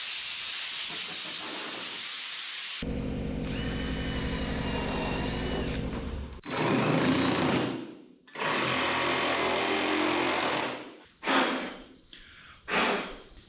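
Work on a big shop sign: a power tool whirs with a steady motor whine for a few seconds, then harsh cutting bursts start and stop in uneven spurts, close and loud.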